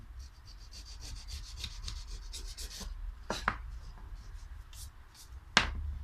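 Sanding block rubbed by hand over aerated concrete to smooth off rough lumps, giving soft, close scraping strokes in quick bursts, broken by a couple of sharper knocks.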